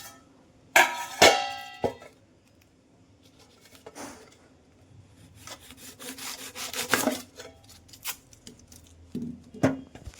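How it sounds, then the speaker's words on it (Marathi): A knife cutting through an onion on a board at home, giving a few sharp crisp cuts early on, then a busier run of quieter slicing and scraping strokes, close and alone. "काल मी बाजारला गेलतो आणि तिथनंच मी कांदा आणलाय, तोच कापतो आता."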